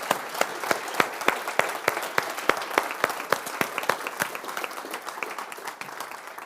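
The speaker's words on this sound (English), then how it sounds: "Can we have a round of applause for Clover Hogan?" Audience applause after a conference talk, a dense burst of many hands clapping with sharp individual claps standing out, steady and fairly loud across the whole stretch, fading slightly toward the end with no talk over it.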